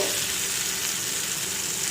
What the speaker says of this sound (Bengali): এবার এগুলোকে আমি ফ্রাই করে নেব এখানে বাটারটা গলে গেছে